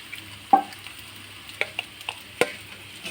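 A paratha, the second of the batch, fries in a pan with a soft, low sizzle, broken by a few sharp clicks and pops spaced across the moment. Nobody speaks.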